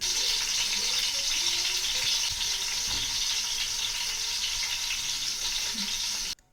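Five eggs seasoned with salt, chili and turmeric fry in hot oil, giving a loud, dense, unbroken sizzle that ends abruptly; nobody talks.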